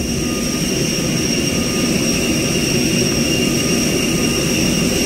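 Jet airliner engines at Rafael Hernández Marín International Airport before takeoff, a steady, loud roar with a high whine running through it, heard from inside the plane with no talking.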